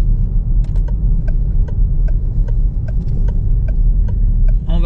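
A car pulls away across a parking lot during a driving lesson in an automatic, with a steady close engine rumble and faint regular ticks, and a brief rattle at the very end.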